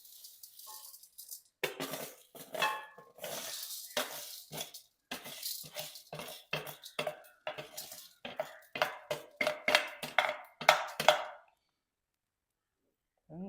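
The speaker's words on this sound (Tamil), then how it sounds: "மல்லி வறுக்க போகிறோம்" Coriander seeds being dry-roasted in a pan give off a rapid run of rhythmic scraping, rattling strokes, close and fairly loud, about two a second, before the stirring suddenly stops into quiet.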